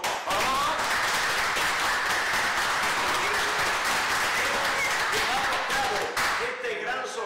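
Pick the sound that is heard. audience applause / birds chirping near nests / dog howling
audience applause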